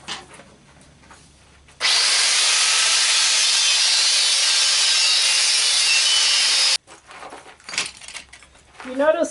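A saw cuts through two clamped metal shield pieces at once. The loud, harsh rasp runs steadily for about five seconds before stopping abruptly, with quieter handling noises before and after.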